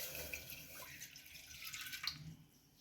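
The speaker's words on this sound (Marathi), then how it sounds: "यामध्ये आपण अर्धा ग्लास पाणी घालून घेऊया." Half a glass of water poured into a heating pressure cooker, a soft, steady splashing trickle heard faintly and close.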